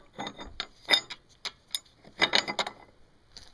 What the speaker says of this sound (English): now it's just all that's left is to bolt it back up